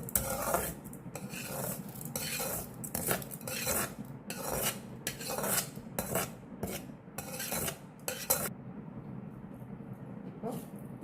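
Roasted rice and spices for idli podi are tipped and scraped into a mixer jar, giving a run of dry rattling, rasping pours and clinks against the jar that go on steadily, then trail off quieter at the end.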